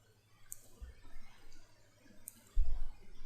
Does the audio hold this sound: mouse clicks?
yes